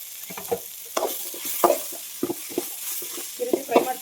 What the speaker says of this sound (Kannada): ಈ ರೀತಿ ಫ್ರೈ ಮಾಡ್ಕೊಳ್ಳಿ ಎಲ್ಲಾನು ಮಿಕ್ಸಲ್ಲಿ